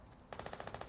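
Rapid video game gunfire rattles in a fast, even burst of about ten shots, fairly faint and distant, starting abruptly after a brief quiet moment.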